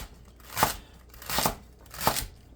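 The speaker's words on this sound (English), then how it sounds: "One stalk of celery, and everything's just going to get quick diced." Knife dicing a celery stalk and other vegetables for venison soup on a cutting board, three separate crisp chopping crunches spaced evenly, close and fairly quiet.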